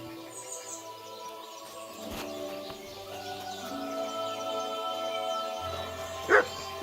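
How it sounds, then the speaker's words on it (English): A dog barks in the medieval role-playing game Kingdom Come: Deliverance 2, heard as a short sharp bark late in the clip over steady background music and ambience. "Get out of here, mutt! No one wants to hear your bark!"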